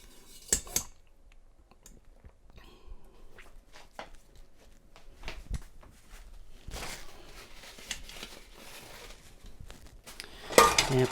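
Lid set onto an Instant Pot pressure cooker holding a whole chicken, heard as scattered metallic clinks and scrapes, then a louder clatter as it twists and seats at the end, with no talking.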